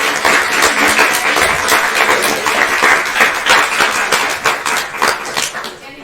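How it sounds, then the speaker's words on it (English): A youth wellness event audience gives a round of applause, uneven and clattery with distinct individual claps and a cheer, loud and close, tapering off toward the end. "can we have a big round of applause"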